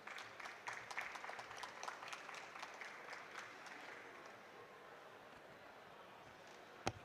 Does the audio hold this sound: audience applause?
yes